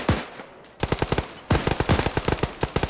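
Automatic gunfire from a turret in the video game Ghost Recon Advanced Warfighter 2, loud rapid bursts of shots with a brief break, then sustained fast fire.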